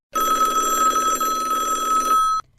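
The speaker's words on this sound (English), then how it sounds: "Sakura's hand phone rang." A mobile phone rings with a bright electronic bell tone in one continuous burst of a couple of seconds, loud and close, then cuts off into silence.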